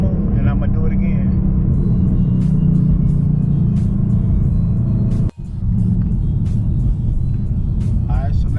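A 2019 Ford Mustang GT with a 10-speed, its engine rumbling low and steady while driving, loud and close with road noise, a sharp dropout near the middle, and someone talking over it.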